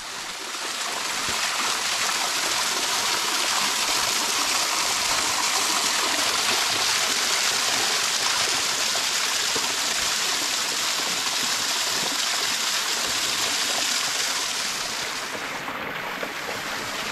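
Siklawica waterfall and its stream in the Tatra mountains, a loud, continuous rushing roar of falling water that holds steady throughout.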